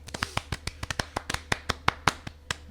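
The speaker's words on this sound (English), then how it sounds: "Come on, clap, clap, clap." A small group of people clapping in a talk-show setting: a quick, slightly uneven run of about sixteen sharp hand claps over under three seconds, fairly close and moderately loud, with no other sound.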